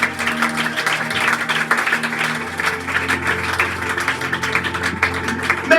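A church congregation applauds in a steady, sustained wash of clapping, with a musical tone sustained underneath throughout.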